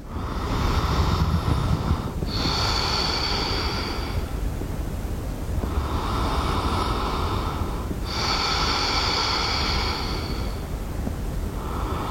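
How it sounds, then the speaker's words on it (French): Deep, slow breaths held in yoga bridge pose, about three long inhale-exhale cycles, close and soft with an airy hiss, no talking. "On prendra ici 6 belles respirations."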